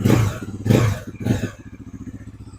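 A new motorcycle with an underbelly exhaust, under pre-delivery inspection, fires up with three loud throaty revs close by, then settles into a steady, rhythmic idle putter.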